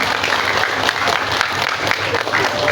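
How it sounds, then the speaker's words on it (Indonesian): A crowd of students and guests at a school graduation ceremony in Tulungagung applauds steadily and loudly, a dense unbroken wash of many hands clapping throughout. "Mana tangannya semua, tepuk tangan yang luar biasa."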